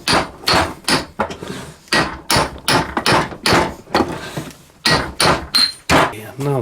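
Repeated heavy hammer blows on a Volkswagen or Audi transmission CV joint drive flange, loud and close, in irregular bursts with short pauses between strikes.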